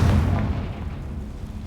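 A Confringo fire spell exploding in Hogwarts Legacy: a loud, close, low booming blast that rumbles and slowly fades over a second or so.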